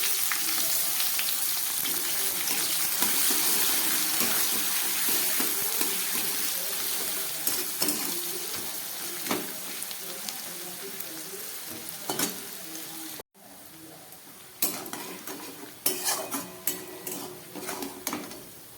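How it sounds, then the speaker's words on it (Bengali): Chopped onions fry in tempered oil (sugar and whole spices) for an egg rezala, giving a loud, steady sizzle with occasional clinks and scrapes of a spatula against the pan; no voices. "এবার আমি এর মধ্যে দিয়ে দিচ্ছি কেটে রাখা পেঁয়াজ।"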